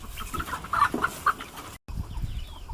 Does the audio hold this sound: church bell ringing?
no